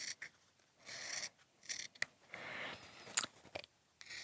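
Scissors snip through fabric for a sewn Christmas star placemat, a series of short close rasping cuts with brief pauses between them, quiet and with no talking.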